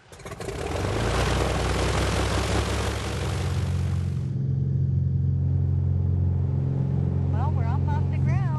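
Small propeller airplane taking off, a loud steady engine roar with broad rushing noise that drops to a lower droning hum inside the cabin as it climbs, with talk near the end.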